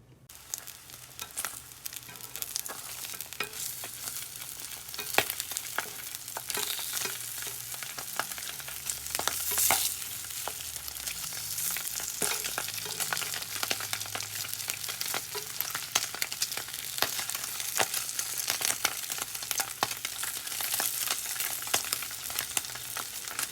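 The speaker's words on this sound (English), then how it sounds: "we're just about done pan frying this here" Steady crackling sizzle of bacon-flavored luncheon meat frying in a pan, with scattered pops and spatters throughout, close and moderately loud, no talking.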